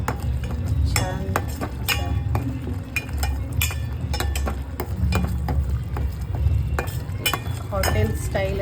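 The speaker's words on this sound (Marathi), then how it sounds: "सर्व आपण एकजीव करून मिश्रण थोडं परतून द्यायचं." Prawn masala mixture being stirred and fried in a pan, a spoon clinking and scraping against the pan in an irregular rhythm over a low, steady sizzle close up.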